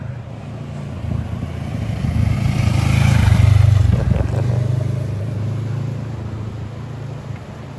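A CF Moto motorcycle engine drones steadily while riding a canyon road through the Atuel canyon, its low harmonic hum swelling to a louder peak midway before easing back, with wind rush throughout.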